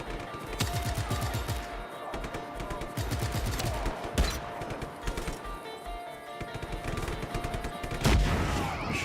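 Dense automatic gunfire and explosions in the open-world action game Just Cause 3, rapid rattling bursts with heavy booms, loud and sustained throughout a chaotic firefight.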